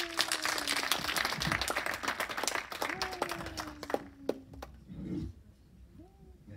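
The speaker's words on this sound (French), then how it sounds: "Mesdames, Messieurs, je vous invite à accueillir et à applaudir M." Conference audience claps to welcome a guest speaker, lively applause that gradually thins into scattered claps and dies away toward the end, with a faint voice tone audible underneath.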